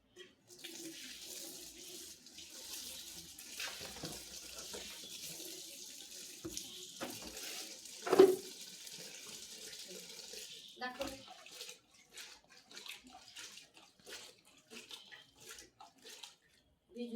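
Tap water runs into a vessel while wild forest mushrooms are soaked and washed, a steady faint splashing stream with occasional louder clatters and sloshes, broken off near the end, with people talking quietly over it.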